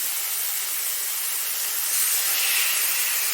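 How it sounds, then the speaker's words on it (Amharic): Shishta fries in a hot pan, giving a loud, steady, hissing sizzle that stays constant and swells slightly near the end, with no talking. "ይሄንን ዝግጅት አድርገን ያስቀመጥነውን ሽሽታዎችንን ቀጥታ እዚህ ላይ እንጠብሳለን ማለት ነው።"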